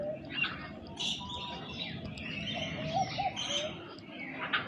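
Several birds chirp and call at a distance over a soft, busy background, with a low cooing mixed in among the tweets, at a bird park at TMII in Indonesia.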